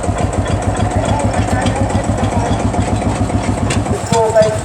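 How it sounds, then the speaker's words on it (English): A 1955 Turner Yeoman of England tractor engine runs steadily at a rally parade, its rapid low knocking beat loud and close throughout, with a brief change in tone near the end. "It's a Turner Yeoman of England tractor"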